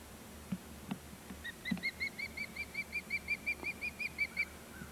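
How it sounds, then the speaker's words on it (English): A bird near the Chowan River calls in a steady run of evenly spaced, clear two-toned notes. The calls repeat about a dozen times at moderate distance over a low background rumble, with no talking. "You're a pretty bird."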